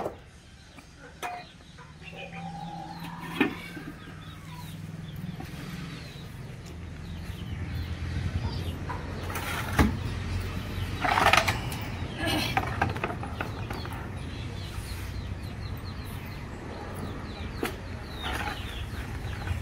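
Desi country chickens cluck and call at feeding time, with scattered nearby clucks and squawks over a low background rumble.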